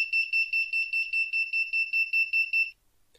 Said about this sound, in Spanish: Si cambiamos ahora y conectamos el altavoz activo, veréis que el sonido es diferente.